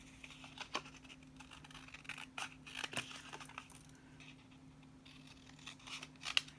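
Scissors snip through paper, cutting the flaps off a Stampin' Up pop-up box in a few short, quiet crisp cuts spread across a faint steady hum.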